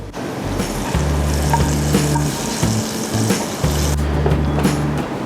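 Golden fried shallots and curry leaves being stirred into a South Indian vada curry, a loud close sizzle and bubbling with an intermittent low hum running underneath, no voices.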